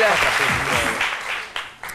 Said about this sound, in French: Applaudissements également pour Paulus Agathon.